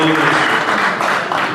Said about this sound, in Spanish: Démosle un fuerte aplauso a todos los del Parlamento de ustedes